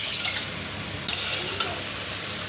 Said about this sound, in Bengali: লোহার কড়াতে তেল গরম করে এবার পিঠেগুলো এক এক করে ভেজে নেওয়া হবে